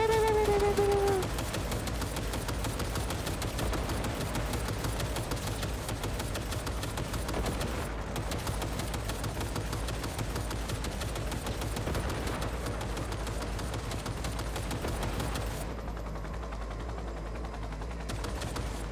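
Gunfire from a raid on Arasaka Tower in Cyberpunk 2077, a dense continuous rattle of automatic shots over a low rumbling mix, steady and fairly faint throughout with no speech.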